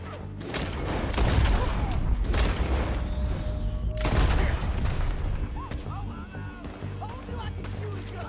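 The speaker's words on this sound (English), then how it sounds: "Told you I could shoot a gun, didn't I?" Gunfire in Red Dead Redemption 2 during a prisoner-escape shootout: repeated loud shots and booms crowd together over dense background action, with voices in the mix.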